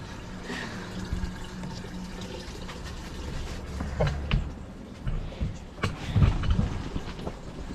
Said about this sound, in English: It is the hydroponic system, and it's working.